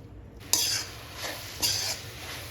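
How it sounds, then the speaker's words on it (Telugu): Gongura leaves being stirred in hot oil for a pickle, with three scraping strokes of a utensil against the pan over a faint sizzle, close and fairly quiet. "గోంగూర మొత్తం మంచిగా ఫ్రై చేసుకోవాలి."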